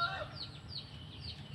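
Hens clucking softly near a nesting box where one sits incubating eggs, a low continuous murmur of fowl sounds without speech.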